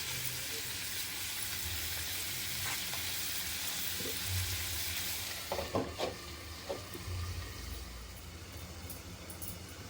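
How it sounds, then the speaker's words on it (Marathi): Garlic prawns cooking in a covered pan, a continuous loud sizzle and hiss of frying that eases off partway through, followed by a few sharp clinks and stirring scrapes. "लसूण पण आपला शिजेल आणि कोळंबी सुद्धा शिजेल"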